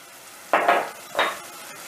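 Tomatoes sauté in a pan for a mushroom stew, with two short close bursts of sizzling and stirring against a quiet background.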